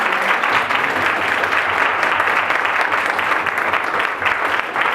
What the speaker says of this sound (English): Please stand up and put your hands together for these beautiful wise women.